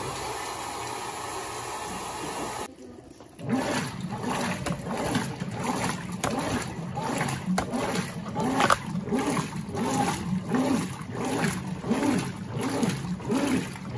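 Water pouring into the drum of a Brastemp 15kg washing machine (BWH15) loaded with jeans and sweatshirts, a steady rushing gush that starts abruptly after a quieter hum and keeps going with churning splashes.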